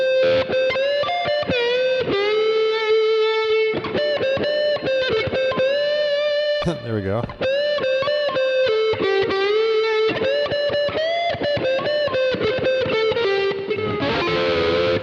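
Lap steel guitar played through a Boss GR-55 distortion patch, loud and heavily driven, with sustained gliding notes and quick picked phrases throughout, a brief swooping bend midway and a short spoken remark.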